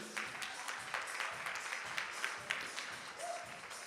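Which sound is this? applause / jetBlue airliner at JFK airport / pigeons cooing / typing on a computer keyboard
applause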